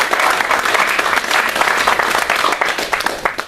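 A church congregation applauds together during a Spanish-language sermon. The clapping is loud, dense and steady for the whole stretch, with a hint of voices mixed into it.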